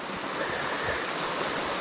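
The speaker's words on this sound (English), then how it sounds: "Just peeking at Eliza Brook." Eliza Brook, a mountain stream near the Kinsman Range in New Hampshire, rushes in a steady, loud broadband wash of flowing water with no break or voice.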